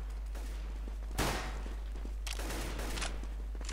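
A few sharp, distant-sounding gunshot bursts in Counter-Strike: Global Offensive, one loud crack followed by a quicker cluster, over a low steady hum.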